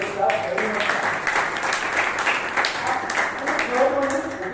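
Audience applause fills a Toastmasters club meeting in Bangalore, a steady wash of clapping from many hands that lasts throughout, with voices mixed in underneath.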